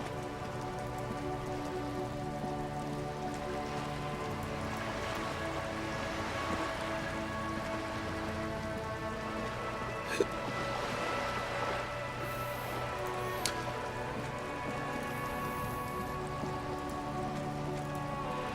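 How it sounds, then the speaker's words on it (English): Steady video game rain falls all around in a dense, even patter, continuous and unbroken, with a couple of faint clicks and no voices. "All around you, rain falls"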